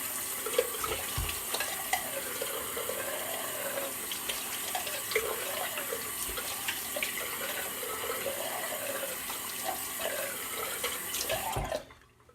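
Tap water running steadily into a sink while rinsing off after a shave, a continuous splashing flow close by that cuts off abruptly at the end.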